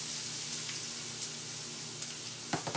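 Mushrooms fry in a pan with a flour base for hamburger gravy, a quiet, steady sizzle with a few soft clicks and a brief burst of stirring or clatter near the end.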